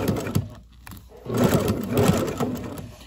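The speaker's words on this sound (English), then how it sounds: "I'm going to take it down here to the machine and just stitch right along the edge" Sewing machine stitching close along the edge of a box-front fabric face mask, a steady mechanical whir that starts after a short pause and runs continuously at moderate volume.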